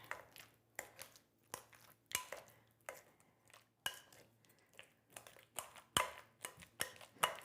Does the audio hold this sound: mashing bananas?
yes